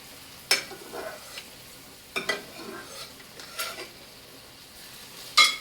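A sugar mixture being stirred in a pan over the heat, quiet scraping and clinking strokes at irregular intervals over a faint background, no talking.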